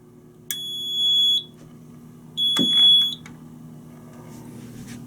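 A newly installed fire alarm system in a man cave sounds during a test: two loud, piercing electronic tones, each lasting about a second, separated by a short pause.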